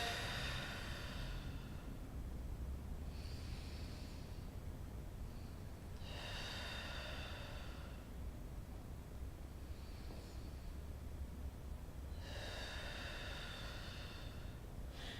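Slow, steady breaths in and out during Pilates arm reaches, soft airy rushes recurring every few seconds over a constant hiss, close and quiet with no talk.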